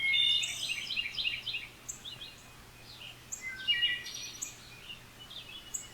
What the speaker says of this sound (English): just take a few moments to sit in silence, listening to the birds